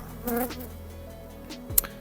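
Agitated honeybees buzz steadily in a dense drone close by at an open hive, with a brief sharp click toward the end.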